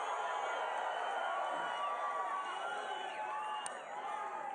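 A big rally crowd at a Donald Trump speech in Las Vegas cheers in a steady, distant wash of noise, quiet and continuous with scattered whoops.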